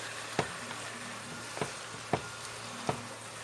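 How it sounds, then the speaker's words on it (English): Jackfruit frying in a pan for vegan pasteles gives off a steady, quiet sizzle, broken by four or five sharp pops or utensil taps spaced about half a second to a second apart, with no voices. "the reason you're frying the jackfruit is because it keeps it a little more integrated"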